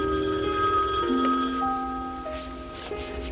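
A telephone rings in a home with steady electronic tones, moderately loud and close, holding through a quiet room with no talk.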